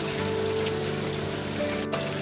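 Cartoon rain falls steadily as a dense, even hiss of drops on surfaces, continuous and fairly loud throughout with a faint tonal hum underneath and no voices.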